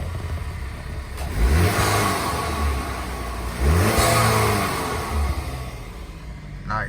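A Cadillac ATS 2.0T with a ZZP throttle body installed revs up twice from a steady idle, each rise swelling into a loud mid-pitched engine note before settling back, heard up close with no talking.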